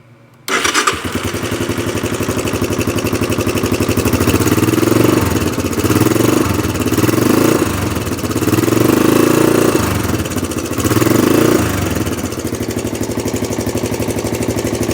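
Three wheeler engine swapped into a golf cart starts abruptly and runs loud and close at a steady idle, its rough mechanical drone rising and falling slightly in several gentle revs, with no talking.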